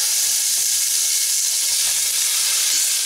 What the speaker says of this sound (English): I'm going to throw in some oil just to coat the bottom of the pan.